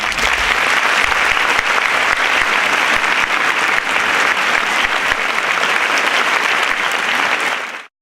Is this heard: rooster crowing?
no